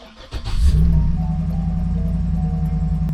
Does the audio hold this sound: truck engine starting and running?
yes